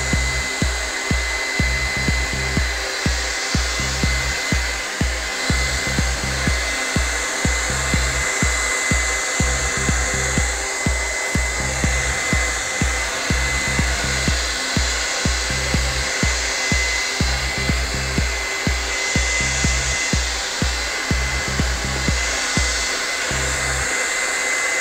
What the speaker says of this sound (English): We're gonna take the trusty hairdryer here and just set the paint a little bit.